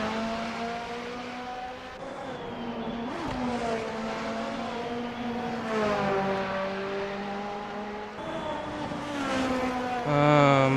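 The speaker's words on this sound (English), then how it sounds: "We got a few cars already out on track here in the CO Cup race so far" Race car engines at Suzuka in a Formula-style racing game, a continuous loud high-pitched whine rising and falling as the cars shift gears and accelerate around the track.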